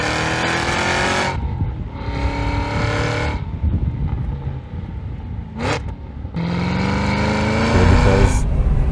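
A Cadillac CT5-V Blackwing revving hard in repeated bursts, each rising wail of engine tone cutting off abruptly, with short gaps and a brief sharp blip between pulls, loud and close.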